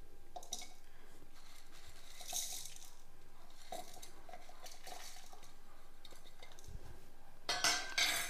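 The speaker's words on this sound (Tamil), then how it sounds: "இப்போ வறுத்து வச்சதை எல்லாத்தையும் நம்ம மிக்ஸி ஜாரில் சேர்த்துடலாம்." Roasted spices tipped into a mixer jar in a home kitchen, quiet scattered clinks and scraping of a spoon against metal, with a louder rattle near the end, faint and close.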